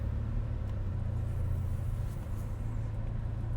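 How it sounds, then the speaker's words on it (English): Steady low road rumble of a car driving close behind, a continuous engine and tyre drone that dips briefly midway. "there's a car behind me"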